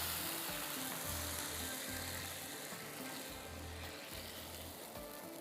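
Steady frying sizzle crackles continuously as a butter tadka is poured over ginger mutton, with a low rhythmic rumble pulsing underneath and no voices.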